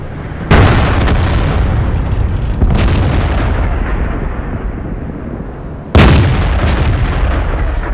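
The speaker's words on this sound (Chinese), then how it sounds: "火炮的金币弹主要是加爆炸范围的" Artillery in the World of Tanks game fires premium high-explosive shells, giving three loud, booming cannon blasts spaced a few seconds apart, each followed by a long rumbling decay over a constant heavy background roar.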